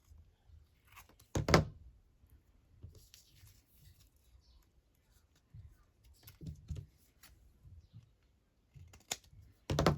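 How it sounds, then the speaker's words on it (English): Scissors snipping through stamped fabric to cut out a tag shape, with a loud crisp snip near the start and another near the end, plus softer scattered snips and handling sounds in between. "I think I'm going to cut it into a tag shape"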